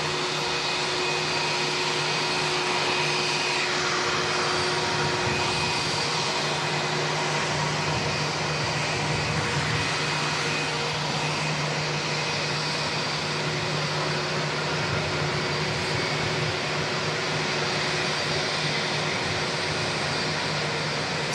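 A Singapore Airlines jet landing at Auckland Airport, heard as a steady broad roar of engine noise with a constant tonal whine, loud and continuous throughout with no voices.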